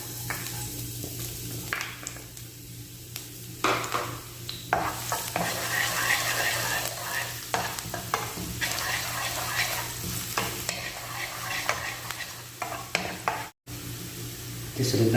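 Garlic sautéing in a little oil in a pan, a continuous close sizzle broken by repeated scraping stirs and clatters of a utensil, with one brief dropout near the end.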